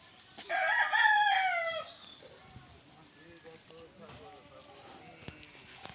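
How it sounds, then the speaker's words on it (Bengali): A rooster in a village yard gives one loud, close crow near the start, then softer clucks and yard sounds follow while someone talks quietly in the background. "অত্যন্ত সুন্দর একটা মোরগ এখানে দেখা যাচ্ছে"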